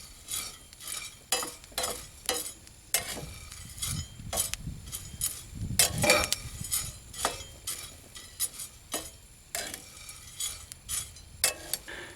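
Coffee beans are roasted in a pan and stirred constantly, their rattling and scraping coming in quick rhythmic bursts over a faint sizzle, close up with no speech.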